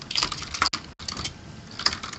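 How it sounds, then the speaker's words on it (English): Rapid clattering keystrokes on a computer keyboard rattle in the background during a gaming commentary stream, fast uneven bursts with brief pauses, close and fairly prominent. "That's high-res Bart going crazy with his keyboard."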